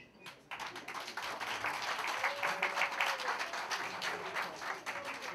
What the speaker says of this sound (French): j'aurai besoin que vous m'applaudissiez s'il vous plaît